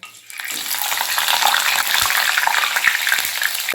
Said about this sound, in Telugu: ఇప్పుడు పచ్చిమిర్చి వేపుకుందామండి